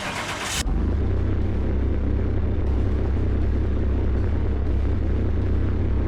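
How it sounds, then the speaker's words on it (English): A car engine in Car Mechanic Simulator 2021, freshly topped off with oil, idles with a steady low rumble and a slight uneven misfire, continuous and close after a brief burst of noise at the start, with no talking. "just listening to it, there's a slight misfire"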